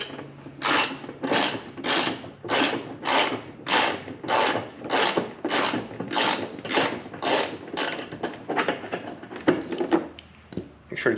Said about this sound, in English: So go ahead and grab your ratchet.